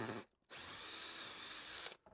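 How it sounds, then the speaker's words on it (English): Power drill running with a clearance bit, opening up holes for wall plugs in a wall. One short burst, a pause, then a longer steady whine of about a second and a half, close and fairly loud. "All I need to do now is run through here with a good sized clearance drill"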